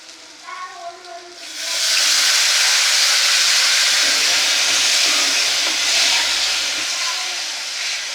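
Water splashed into goat brain masala frying with onion and spices in a pan: a sudden loud, steady steam hiss that swells and holds for several seconds, after a brief quieter stretch with a voice.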